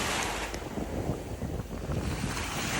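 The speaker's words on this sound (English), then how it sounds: "Let's go to the ocean together" Ocean waves rolling and washing steadily with wind buffeting the microphone, a continuous broadband roar with no voices.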